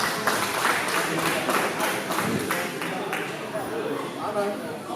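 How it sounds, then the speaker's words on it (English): Crowd at a lucha libre wrestling show clapping in applause, a steady wash of claps with a rhythmic clapping pattern, mixed with crowd voices and chatter. "Let's give him a round of applause."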